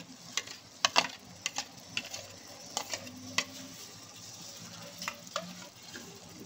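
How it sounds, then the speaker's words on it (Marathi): Whisked yogurt is stirred into chicken biryani masala in a pan. A spoon scrapes in intermittent strokes over a soft, steady sizzle of frying, fairly close and moderately quiet, with no talking. "तर ते आता याच्यात मिक्स करत आहे"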